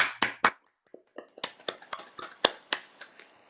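Sparse, sharp claps for a Rotary Club member, a few individual hands clapping close and dry in an irregular rhythm with brief pauses, like scattered participants on a remote meeting.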